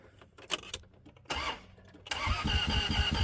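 The rough-running 3.0 V6 in a 1995 Plymouth Voyager, suspected of seizing or snapping its timing belt, gives a few short hesitant bursts, then cranks over in a loud, fast, rhythmic churn up close.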